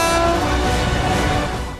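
Continuous rumble of a moving train, a broad, steady roar with sustained tonal hum on top, close and loud throughout, easing slightly toward the end, with no talking.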